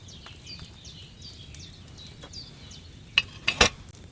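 Wine bubbles in a cauldron over a flame in Kingdom Come Deliverance 2, a soft steady simmer with faint chirps, ending in a few sharp clinks and scrapes.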